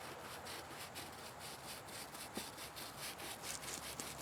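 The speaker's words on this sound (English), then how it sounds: "semi-hard bristle brush, and we're just going to wipe this off as we're going so that it doesn't dry" A semi-hard bristle brush scrubbing the surface of a Quest Angler 10 boat during cleaning, a soft steady rhythmic rubbing heard close and quiet, with a few light knocks near the end.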